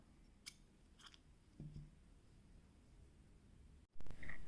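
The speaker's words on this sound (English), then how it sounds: "And now you chain 1 and cut your yarn." Scissors cutting crochet yarn, a few brief, quiet snips spaced apart over soft background noise, with a sharper click near the end.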